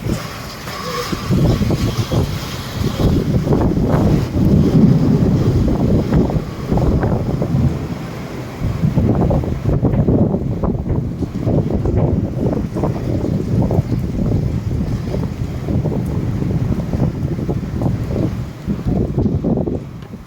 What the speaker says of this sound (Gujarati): પવન આવ્યો.